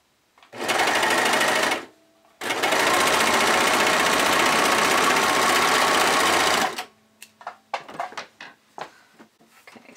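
A sewing machine basting exterior fabric for a bodysuit runs in two loud, steady bursts separated by a short pause, then stops, leaving faint clicks and handling noises.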